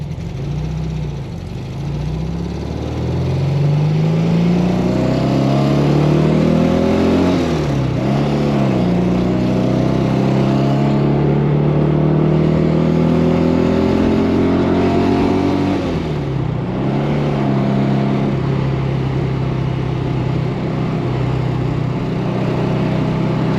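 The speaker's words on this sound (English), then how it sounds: "Try to hit all the gears, Chris. That's fourth. And then fifth." A 1967 Porsche 912 engine runs loud and close, its pitch climbing under acceleration and then dropping sharply at each gear change as it shifts up through the gears.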